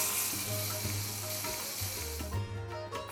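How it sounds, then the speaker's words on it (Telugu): Asafoetida and curry leaves frying in oil for a tempering, a loud, close, continuous sizzle with a few stirring scrapes and no voices. "1/2 టీ స్పూన్ అంత ఇంగువ, కొన్ని కరివేపాకులు వేసి బాగా వేయించాలి."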